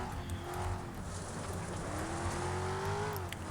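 A car accelerating in the racing game FlatOut, its engine note climbing steadily as it revs up, with tire noise and other race cars underneath, loud and continuous.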